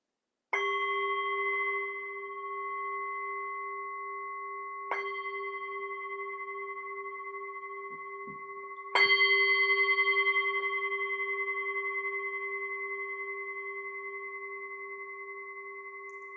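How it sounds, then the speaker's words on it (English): Meditation bell rung three times, each strike a clear, sustained ringing tone that lingers and slowly fades, with the third strike slightly louder, alone in a quiet setting. "I will just ring the bell and we can get started with our meditation."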